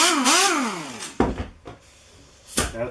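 A smaller Harbor Freight 1/2-inch air impact wrench runs in short bursts, a rising and falling pneumatic whine followed by a few sharp hits and a final burst, loud and close.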